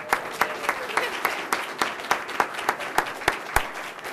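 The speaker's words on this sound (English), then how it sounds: "So I'd like to give my wife, Carrie, a nice round of applause." An audience claps for the new basketball coach's wife Carrie, a moderate crowd applause with a few sharp, close claps standing out in a regular rhythm above the steady patter.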